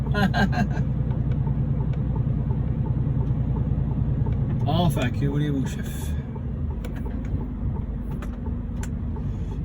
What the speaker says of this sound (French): Vaut mieux que ce soit le camion qui recule que la voiture qui va juste à côté à droite